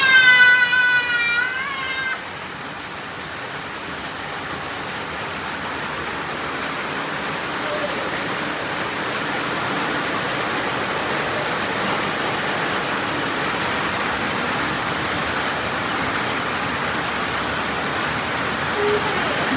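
Steady rain falls outdoors, a constant even hiss that lasts throughout, with a brief higher-pitched cry or call at the start.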